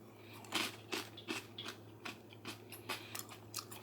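Freeze-dried sweet chili corn nuts crunched between the teeth, a quiet, close run of irregular crisp bites and chewing crackles with no speech.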